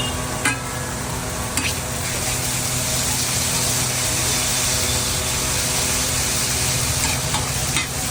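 Noodles Manchurian being stir-fried with onion, capsicum and garlic paste in a hot pan, a steady loud sizzle with scraping stirs throughout and a few sharp clanks of the utensil.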